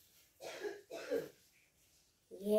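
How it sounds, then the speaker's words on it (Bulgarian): A woman coughs in short, harsh bursts: two close coughs, a pause, then a third. The coughs are fairly faint and come from somewhat off-microphone in a quiet room. "Мама, не се спре да кашля"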